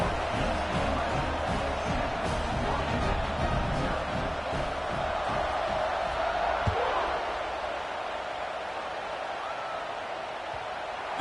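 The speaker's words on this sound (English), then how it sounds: "this crowd is buzzing after that last score" Football stadium crowd at a Washington versus UCLA game buzzing after a score, a dense steady roar of many voices with scattered shouts and thuds, easing slightly toward the end.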